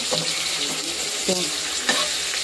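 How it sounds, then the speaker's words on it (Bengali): Paneer frying in a home kitchen pan, giving a steady close sizzle throughout, with brief clatters of stirring and handling on top and no talking. "এই যে পনিরটা এখানে ভেজে নিচ্ছি"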